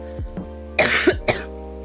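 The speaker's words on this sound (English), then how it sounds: "I hate this cough." Two close, harsh coughs from one person, loud and near, with a faint steady hum underneath and no talking.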